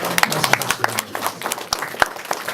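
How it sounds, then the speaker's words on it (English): Crowd applause at an event honoring Floyd Mayweather, a short burst of clapping with distinct close claps and a few voices mixed in, loud and uneven. "Round of applause."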